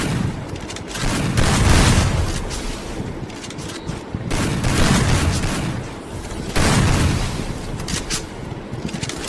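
Dense, continuous gunfire in a shooting video game, with bursts of rapid shots and booms layered over each other in three loud waves, heard without talking.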